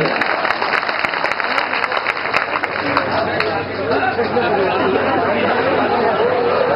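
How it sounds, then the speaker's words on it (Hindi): Crowd at a live comedic stage show breaks into loud clapping, which fades into murmuring chatter and crowd babble while the clapping continues. "बात आपको समझ में आई तो एक बार जोरदार ताली"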